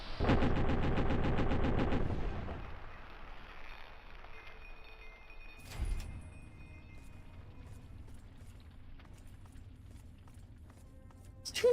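Rapid burst of automatic gunfire in the video game Fallout 3 for about two seconds, then a single loud shot and quieter game ambience with scattered mechanical clicks, ending on another sharp blast.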